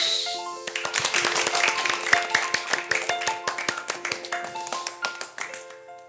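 Children clap their hands together in an 'angel clap' at a lively, quick tempo, giving a steady run of sharp, close claps that carries on for several seconds with no talking.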